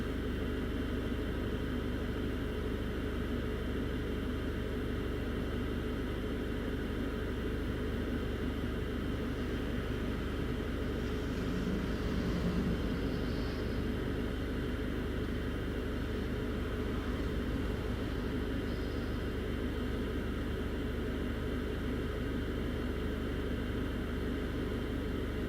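An EasyJet airliner takes off at Newcastle International Airport in stormy weather, heard as a continuous broad roar with a slight swell midway and no speech.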